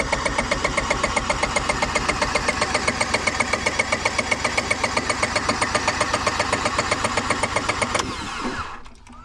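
Honda EV6010 generator engine running steadily, a loud, rapid, even chugging pulse with a rough mechanical clatter that holds for several seconds, then drops away as the engine shuts down near the end.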